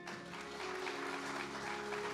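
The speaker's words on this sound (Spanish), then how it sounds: "¿No le damos un aplauso al Señor?" Church congregation applauding together in a steady, continuous wash of clapping that fills the space, with a faint hum underneath and no speech over it.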